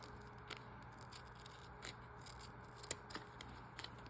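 Scissors trimming Velcro hook-and-loop tape for a cloth diaper converter: sparse, quiet snips and scrapes spaced across several seconds over a faint steady hum.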